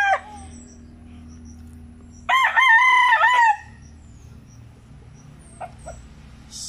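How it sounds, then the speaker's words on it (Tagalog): A rooster crows on a farm among chickens, one loud, clear cock-a-doodle-doo rising and falling over about a second, with faint clucks and low farmyard noise around it. "So tanawa kining mga manuka"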